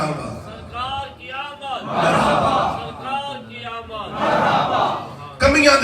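A crowd at a Mawlid gathering chants religious slogans in unison, loud rhythmic call-and-response bursts echoing in a large space, with a lead voice between the crowd's shouted replies.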